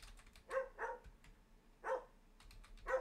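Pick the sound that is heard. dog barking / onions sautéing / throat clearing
dog barking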